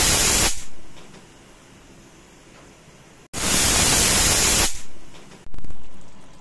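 A pressure cooker hisses loudly as it releases steam in several strong whooshing bursts, separated by quieter stretches, with no talk over it.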